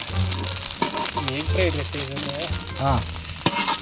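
Chili powder and salt fry in hot oil for egg rice, a continuous close sizzle with scraping stirs underneath while someone talks over it throughout.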